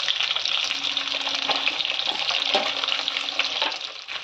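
Chicken pieces sizzle in hot oil in a pan for chili chicken, a steady close hiss and crackle that carries on throughout with small bubbling spits.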